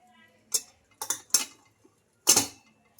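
A metal bun plate is set down into an idli steamer vessel, giving several close, sharp metallic clinks and taps, a quick cluster of three followed by one louder clank after a pause.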